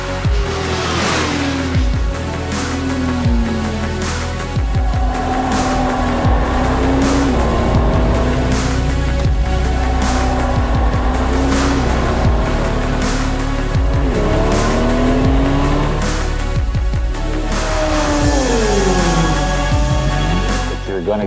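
Motorcycle at over 100 mph on a race track, a loud continuous engine roar with rising and falling pitch as it accelerates and shifts, wind rush throughout.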